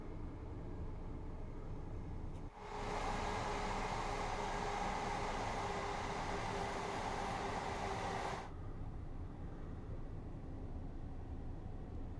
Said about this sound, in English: Is a train. HST.